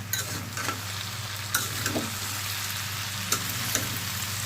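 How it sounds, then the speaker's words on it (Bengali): Bitter melon and potato fry being stirred in a pan with cumin powder, a steady sizzle running throughout with a few sharp scrapes of the spatula against the pan, close and alone without voices. "নাড়তে থাকবো।"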